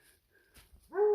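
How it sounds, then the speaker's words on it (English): A bear hunting dog wearing a GPS collar on the Appalachian Trail near Erwin, Tennessee, lets out one clear, rising whine or short howl close by after a few quiet seconds. "It's a bear hunting dog."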